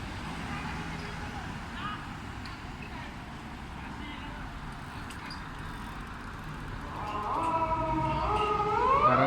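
Steady roadway traffic noise from a street in Japan gives way near the end to a Japanese police patrol car's siren, whose rising wail swells in loudness as it approaches.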